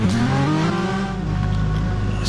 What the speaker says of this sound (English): I'll wait for him to stop revving.